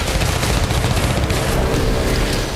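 Rapid, sustained gunfire from a Russian mechanized battalion in combat near Andriivka by Bakhmut, dense and continuous bursts that stay loud and close with no pauses across the clip.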